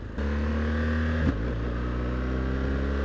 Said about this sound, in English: Big pop into second gear.